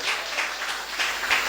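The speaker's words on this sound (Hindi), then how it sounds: "अगर विश्वास करता है तो ताली बजाओ" A church congregation claps together in a brief, rhythmic burst of applause, steady and fairly close, with no talking over it.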